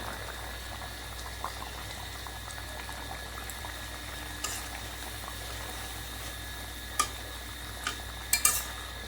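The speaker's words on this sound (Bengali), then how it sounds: "দেখুন মাছের ঝোলটা আমার ভালো করে ফুটে উঠেছে" Bengali fish curry for ilish bhapa with mustard and poppy seed bubbling steadily in a pot, a low continuous simmer with a few faint clinks of utensils near the end.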